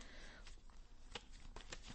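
Tarot cards being shuffled by hand, a soft papery riffling with scattered sharper card slaps and flicks, close and continuous for a couple of seconds.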